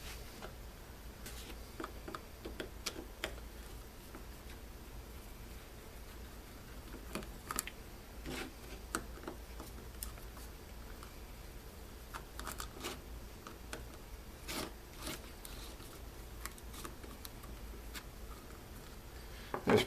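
Faint, sparse clicks and ticks from unscrewing three Phillips screws on a solar path light, up close and quiet, with light handling noise and a slightly louder knock at the end.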